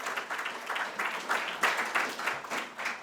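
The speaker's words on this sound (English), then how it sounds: "I'd like to give them a big round of applause for getting us going." Conference audience applause at an annual morning session, a steady wash of many hands clapping at moderate loudness for about three seconds, with no one speaking over it.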